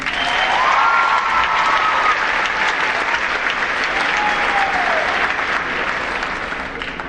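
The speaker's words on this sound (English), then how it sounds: "How about another round of applause for him?" Warm, sustained applause fills a school auditorium at a senior awards assembly, a broad crowd clapping with a few whoops rising above it, loud and even before easing off slightly.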